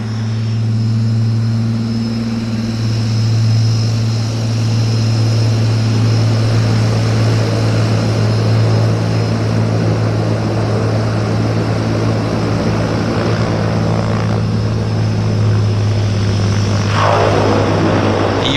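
A Twin Otter twin-propeller floatplane takes off from a float base in Vancouver. Its engines give a steady, heavy droning hum with a low tonal buzz that stays loud throughout, heard alone.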